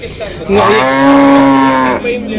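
A cow at the Punganur cattle market in Andhra Pradesh lets out one long, loud moo that swells and then fades, with quiet background before and after.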